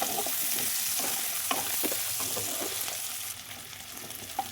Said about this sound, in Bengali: ওই তেলের ওপর দিচ্ছি রসুন ফোড়ন পেঁয়াজ কুচি দিচ্ছি আদা আর কাঁচা লঙ্কা